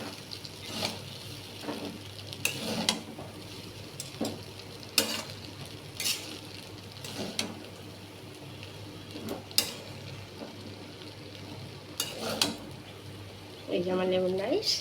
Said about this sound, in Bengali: এটা দিয়ে ভেজে নেবো একটু।